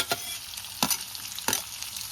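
Onion and chili frying together in oil, a quiet steady sizzle broken by three evenly spaced scraping stirs.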